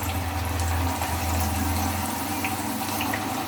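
Steady, dense hissing and bubbling of chana dal (split chickpeas) frying in hot oil, foaming up from the lentils' moisture, continuous and loud throughout.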